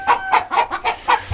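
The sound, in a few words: penned chickens clucking on a farm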